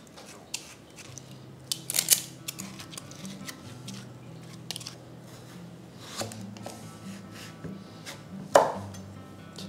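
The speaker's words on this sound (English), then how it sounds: "I like to use an ice cream scoop to remove the seeds." Scraping and tapping of a metal ice cream scoop pulling seeds from a halved melon, with several close, sharp clicks and short scrapes spaced irregularly, one louder knock near the end, over quiet background.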